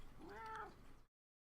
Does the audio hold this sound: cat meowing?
yes